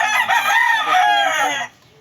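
A loud, close rooster crow rings out in one long sustained call that fades abruptly near the end.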